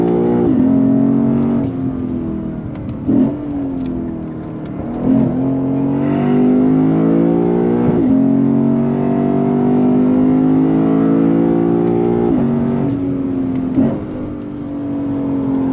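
Lexus IS 500 F Special Edition V8 engine revving hard from 3,000 RPM while driven, a loud, steady rising roar that climbs in pitch, with brief dips at gear changes.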